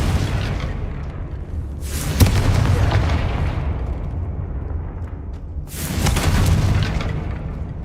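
Two deep, heavy booms from the Confringo fire spell in Hogwarts Legacy, each a loud burst followed by a rumbling decay, spaced several seconds apart with no voices.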